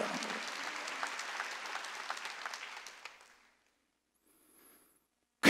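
A congregation claps together during a Wednesday church worship service, loud rhythmic hand claps for about three seconds that fade out, followed by near silence and a brief sharp noise at the end.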